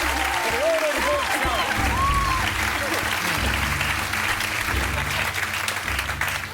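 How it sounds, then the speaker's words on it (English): Audience applause for the order of the book fills the room, dense and sustained under overlapping voices and shouts, loud and close throughout. "Round of applause, folks, for the order of the book"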